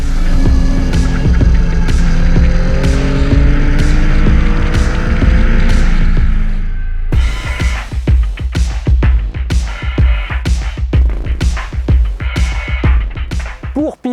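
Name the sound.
Yamaha MT-09 2021 motorcycle engine while riding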